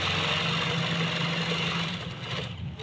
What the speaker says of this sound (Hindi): ये सिलाई लगा रहा हूँ, ये पैर की सिलाई लगानी पहले।